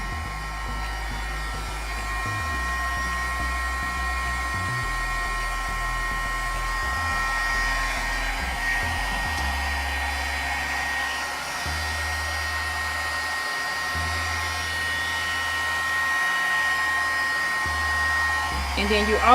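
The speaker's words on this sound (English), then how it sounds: "which is the Martha Stewart embossing gun" A Martha Stewart embossing heat gun blows continuously up close, a steady whooshing fan roar with a low motor hum that shifts in pitch now and then, running unbroken throughout.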